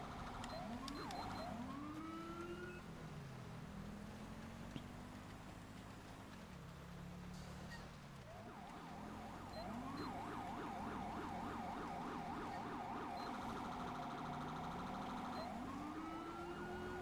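A police car siren wails continuously, sweeping up and down in long, repeated cycles before shifting into faster yelping sweeps. It sounds loud and close, with no voices over it.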